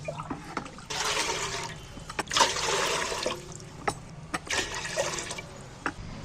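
Water is poured into a cooking pan on the stove while making a rice, egg and cauliflower dish, coming in three separate splashing bursts with short pauses and light clinks between them.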